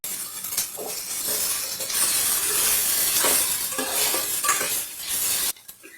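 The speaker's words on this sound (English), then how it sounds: "Keep stirring this for 2 minutes on high flame." Kidney beans, tomatoes and sweet corn stirred in a pan over a high flame, a steady loud sizzle with scraping spoon strokes throughout, cutting off abruptly near the end.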